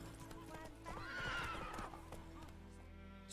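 Roach the horse from The Witcher 3 gives a loud whinny over a steady clip-clop of hooves, with a voice speaking around it.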